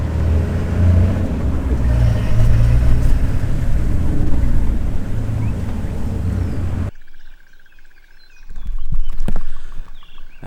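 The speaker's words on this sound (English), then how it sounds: "We're just driving through this little drainage line" A safari game-drive vehicle at Lion Sands rolls through a small drainage line, its loud, steady engine and body rumble filling the first seven seconds before cutting to quieter engine noise that swells again near the end.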